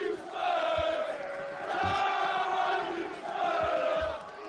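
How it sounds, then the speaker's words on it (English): Crowd of Tottenham football fans outside greeting the arriving team bus before a match with Nottingham Forest, a sustained roar of cheering and chanting that swells in waves, heard from a short distance. "look at our fans out there cheering them on"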